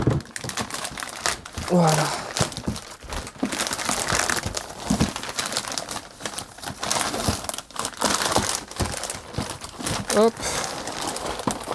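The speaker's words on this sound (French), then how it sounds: "Allez, donc on va déballer maintenant." Plastic packaging crinkles and rustles while RC520 parts are unpacked, with handling noises and someone speaking French briefly near the start and end.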